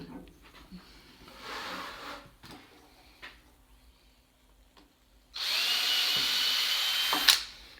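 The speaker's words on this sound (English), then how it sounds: "The first thing we need to do is drill a pilot hole somewhere in the middle" A power drill with a 1/8 inch bit bores a pilot hole into a wood block. Quiet handling knocks come first, then a loud, steady, close whir for a few seconds near the end.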